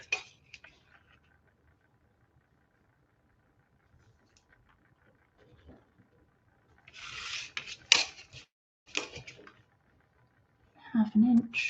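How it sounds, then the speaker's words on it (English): A pencil draws lines on paper while a watercolour turtle is being sketched out: faint, short scratchy strokes come in a few quiet bursts separated by near silence, with soft talking at times. "And I'll draw lines coming in."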